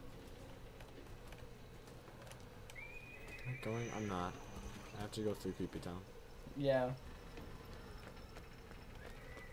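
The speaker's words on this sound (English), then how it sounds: "There's lots of, like, sounds of horses whinnying and metal creaking" Horses whinnying in the video game Bioshock Infinite, several rising and falling neighs in the middle of the stretch over a low ambient hum, with people talking over the game sounds.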